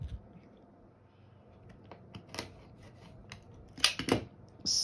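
A rotary cutter slices through fabric in a home sewing room while zippers are prepared for a project: a few short, sharp cutting and clicking bursts near the end after quiet rustling.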